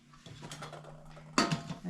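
A large home cooking pot is handled in a kitchen before deep-frying: quiet metallic scraping and light tapping, then a louder clanking rattle of the pot near the end.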